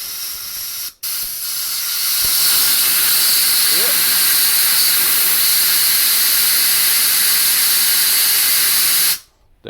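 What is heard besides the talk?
mist spraying from carburettor jet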